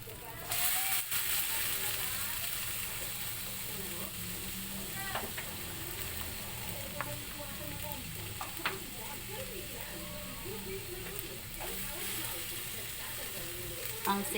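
Bitter gourd (ampalaya) hitting a hot pan sets off a steady, hissing sizzle of frying, with scattered clicks and stirring scrapes of a utensil against the pan throughout.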